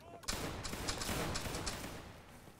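A video game volley of muskets from a line of soldiers cracks out together as a dense roar of overlapping shots that rolls on and fades over a couple of seconds.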